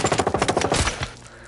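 A rapid burst of automatic gunfire in a PS4 shooter game, about a dozen close, loud shots in quick succession, then an abrupt stop.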